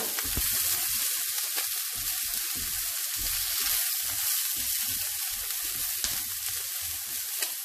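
Carrots sizzle and fry in a hot pan, a steady crackling hiss with soft stirring scrapes, close and continuous with no voices.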